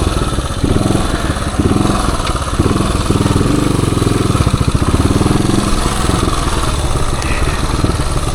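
A 1978 Suzuki DR370 motorcycle single-cylinder engine pulling on a woods trail with the throttle opened, a close, loud, steady thumping exhaust pulse that rises and falls slightly over several seconds.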